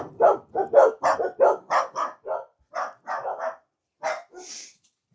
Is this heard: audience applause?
no